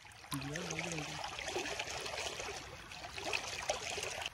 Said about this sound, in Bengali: স্রোত দেখো, ঝর্ণা